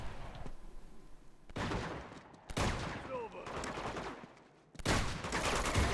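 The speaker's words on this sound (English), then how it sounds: "Who's shooting me from where?" Rapid bursts of video game gunfire from Uncharted 2 in repeated loud volleys with short gaps, close and dense, with no speech over it.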